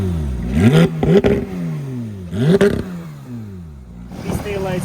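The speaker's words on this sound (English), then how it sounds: "We have this center exhaust with two pipes that sounds" A Porsche 911 GT3's two-pipe center exhaust revved hard three times, each blip rising sharply then falling away, with a raspy, loud tone close by.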